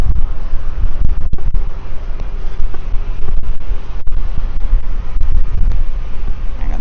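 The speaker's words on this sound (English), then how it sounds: "Yeah, it's very windy out." Strong wind on the deck of a luxury cruise ship at sea roars against the microphone in continuous loud buffeting gusts, with occasional sharp thumps and no one speaking.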